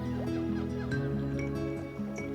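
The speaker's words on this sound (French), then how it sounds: "Vous entendez le chant d'oiseaux inconnu de vos oreilles." Birds call and chirp in a relaxation soundscape set on a lush, vegetated island, their bright repeated calls layered over a steady tonal background for the whole stretch.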